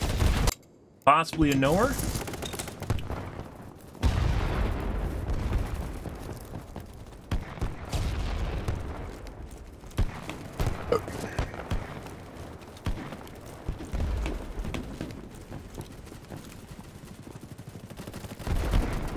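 Gunfire in the video game Battlebits, scattered shots and short bursts at varying distances amid game noise, with someone talking over parts of it.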